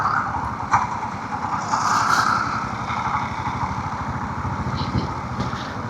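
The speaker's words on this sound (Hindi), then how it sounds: "सेकंड गियर में भी बाइक निकल रही है।" A Royal Enfield Scram 440 motorcycle engine pulling away in second gear runs at a steady low rumble with a dense, rapid putter, holding an even mid-level loudness throughout with no talking.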